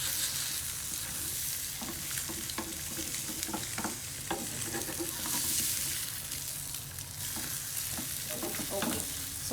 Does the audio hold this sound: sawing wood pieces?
no